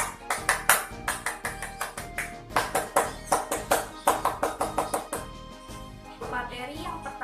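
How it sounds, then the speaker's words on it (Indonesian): A group performs two rounds of Indonesian Scout clapping (tepuk pramuka) outdoors before a Scouting lesson: crisp, close, patterned claps in quick rhythmic sequences with short pauses, trailing off into softer sounds. "marilah bersama-sama kita melakukan 2 kali tepuk pramuka."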